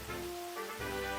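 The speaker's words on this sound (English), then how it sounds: "That's the kind of downpour we like to see" A rain downpour in the Pokemon Black and White video game, a brief, steady hiss of falling rain with a soft tonal hum underneath, continuous and even throughout, with no voices.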